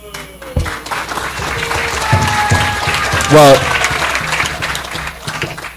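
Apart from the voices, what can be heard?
audience applause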